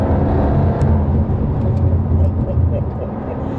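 A supercharged Jaguar Project 8 engine roars steadily and loudly up close, a dense continuous drone with rough low rumble throughout.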